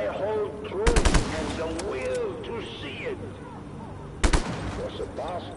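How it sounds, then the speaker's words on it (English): Gunfire in Just Cause 3 aimed at speaker towers: a short loud volley early, then another sharp burst later, amid chirping electronic sounds and ongoing talk. "Shoot those speaker towers."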